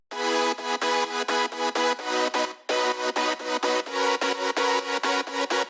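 Fourth layer of synth chords in an emotional progressive house production: loud, choppy chord stabs in a steady pulsing rhythm, split by a short break midway, with no one speaking.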